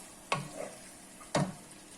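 Meat pie filling with potatoes being stirred by hand, two separate scraping strokes a second apart, close and fairly quiet with faint sizzling underneath.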